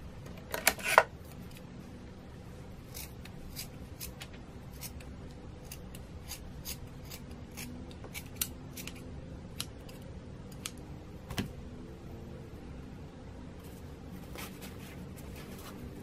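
Scissors trimming excess material during a pumpkin carving and decorating project, a series of sharp, sparse snips up close against a quiet background.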